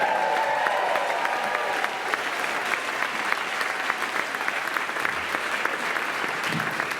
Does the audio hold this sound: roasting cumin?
no